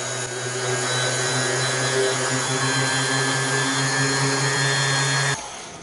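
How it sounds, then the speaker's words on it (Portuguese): Electric sander working wood with 400-grit sandpaper, a steady loud whirring drone held evenly for about five seconds before cutting off abruptly near the end. "estou com a lixa já aqui na máquina. E agora, da mesma forma, de uma forma bem leve, a gente vai lixar."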